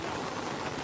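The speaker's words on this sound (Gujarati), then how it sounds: "જુઓ તમે ફૂલ વરસાદ પડે." Heavy monsoon rain pouring outdoors near a pond, a dense steady hiss of falling water, brief and continuous with no talk.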